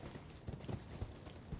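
Soft, uneven clip-clop of horse hooves at a walking pace in the video game Elden Ring, faint and somewhat distant over a low background wash.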